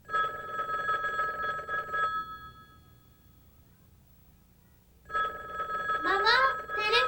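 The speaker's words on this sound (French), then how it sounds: "Maman, téléphone." A telephone bell rings in bursts inside a home, loud and close, with a pause between rings, as a voice speaks over the second ring.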